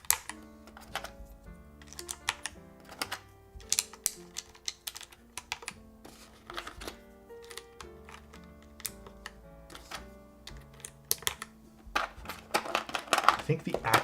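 Rapid clacky typing on a mechanical keyboard fitted with GMK Norse keycaps, a steady patter of close, crisp key strikes that grows busier toward the end, with a voice talking at times.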